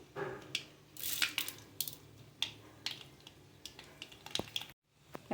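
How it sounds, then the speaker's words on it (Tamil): Mustard seeds and urad dal spluttering and popping in hot oil in a pan for a spicy potato fry, sharp crackling pops in irregular bursts, close and fairly loud, with a brief silent gap near the end. "கடுகு பொரிஞ்சிருச்சு."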